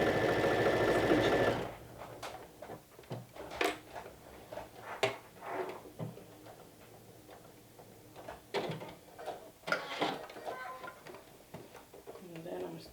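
A home sewing machine top stitching fabric at a seam's start and end, bursts of mechanical whirring and clicking with pauses and handling knocks, close by, with a voice heard in places.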